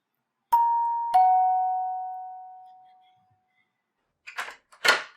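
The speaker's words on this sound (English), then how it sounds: "the first thing I would do is knock on the door or ring the doorbell." A two-tone ding-dong doorbell chime rings out clearly and fades slowly, followed by brief muffled knocks or door sounds near the end.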